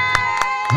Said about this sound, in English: birthday cake by baby Chibuike, supported by his parents and siblings as the crowd cheered him on